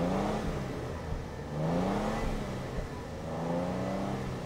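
A 2022 Toyota Tundra Platinum's 3.4-liter twin-turbo V6 revs through its black exhaust, rising in three repeated throttle blips over a steady rumbling idle, close and fairly loud.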